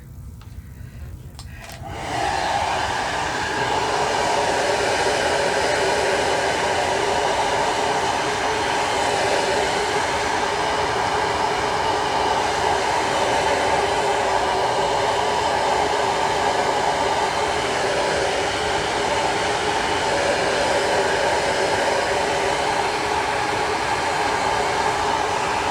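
A hair dryer drying acrylic paint switches on and roars steadily and loudly for over twenty seconds, a constant rushing blow of air.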